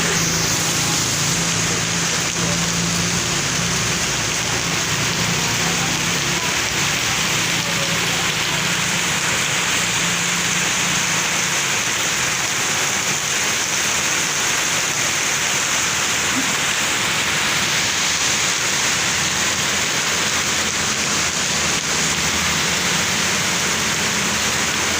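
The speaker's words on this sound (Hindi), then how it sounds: "पहले की निस्बत बारिश अब तेज़ हो चुकी है।" Steady, dense rain hisses evenly for the whole stretch, a heavy downpour with no voices and a faint low rumble underneath.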